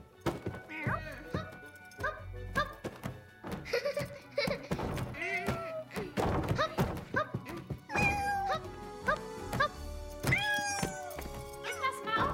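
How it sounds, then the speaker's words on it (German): Cartoon cat meowing in an animated German family film, several drawn-out rising meows standing out amid lively music, thumps and character voices. "Conny, da ist ein Kater auf dem Kopf deines Papas"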